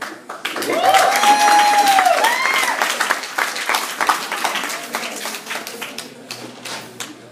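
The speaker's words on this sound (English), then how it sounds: "please give a warm round of applause for Angel, ladies and gentlemen" A warm round of applause for a poet, Angel, at a student poetry performance at Lanier; an audience claps steadily, loud at first and gradually thinning out, with a brief whistle near the start.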